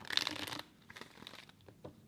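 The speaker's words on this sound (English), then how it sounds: "One more shuffle, guys." Tarot cards shuffled by hand, a dense papery riffle for half a second followed by softer scattered card taps and rustles, close and quiet.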